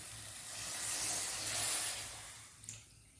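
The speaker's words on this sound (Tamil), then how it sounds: "இதில் 1 லிட்டர் தண்ணி ஆட் பண்ணிக்கலாம்." One litre of water pours into a pot of vada curry, a soft steady rushing stream that builds, holds, then tapers off, fairly quiet and alone.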